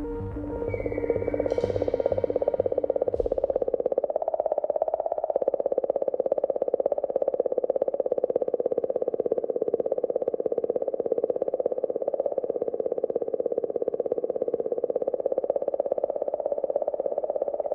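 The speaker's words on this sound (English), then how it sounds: "Some are a little stranger, like the sound of this singing comet." Comet 67P's recorded oscillations, converted to sound, form an eerie, continuous warbling hum with a rapid fluttering pulse, steady and loud throughout after a brief noisy transient at the start.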